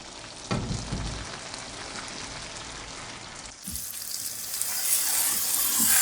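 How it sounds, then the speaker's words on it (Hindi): Boiled eggs dropped into a pan of capsicum already frying in oil, with a steady sizzle, a few soft knocks early on, then louder, brighter frying after they go in. "अब हमने जो अंडे बॉईल किए थे अब वो ऐड करेंगे।"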